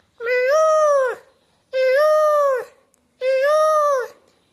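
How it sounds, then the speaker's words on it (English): Peacock calls: three loud, drawn-out wailing cries of about a second each, evenly spaced with short gaps, clear and close with no talk over them. "and the longer version of the peacock voice,"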